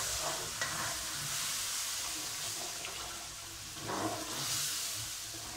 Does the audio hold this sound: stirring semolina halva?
yes